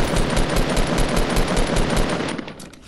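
Rapid automatic gunfire from the video game Fortnite runs as a continuous loud rattle of closely spaced shots, steady for most of the stretch before tapering off near the end, with no voices.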